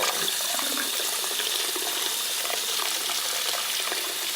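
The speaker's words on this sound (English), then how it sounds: "it is foaming up from the citrus acid" Water runs steadily as a rainbow sherbet bubble bath scoop, made like a bath bomb with citric acid, foams and fizzes in it, a constant rushing wash filling the whole stretch without speech.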